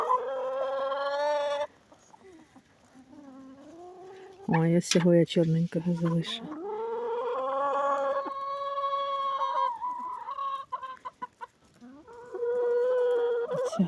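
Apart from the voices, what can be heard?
chickens clucking, rooster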